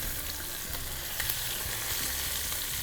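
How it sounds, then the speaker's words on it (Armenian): Chicken pieces frying in a pan, a loud, continuous, dense sizzle and crackle close up, with no voices. "Հիմա ամեն մեկ կողմը 3-4 րոպե ուղղակի տապակում ենք"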